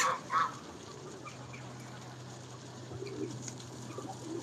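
Birds, geese and swans at the Lough in Cork, with a couple of loud close calls at the start, then a steady faint mix of distant calls and coos over a low background hum.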